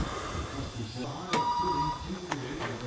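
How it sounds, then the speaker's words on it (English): A telephone rings indoors during work on an oil pan replacement for a Plymouth Breeze. Short electronic ring tones come faintly through background noise and voices. "And the damn phone's bugging me again."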